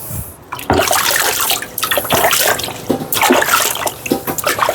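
Water rinsing a Suehiro 100 grit flattening stone used for knife sharpening stones, a loud, continuous close rush and splash of flowing water with shifting gurgles throughout, no speech.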